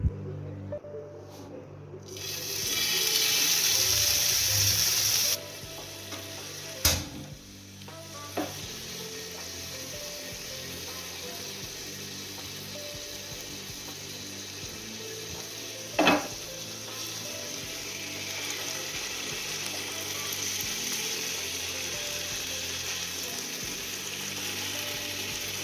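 Chicken tikka boti on sticks frying in hot oil in a pan over low heat, giving a steady, close sizzle that runs throughout, broken by a few sharp clinks of utensils against the pan.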